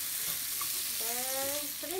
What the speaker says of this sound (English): so I don't want to be shrimp will be overcooked, so I fry it separately.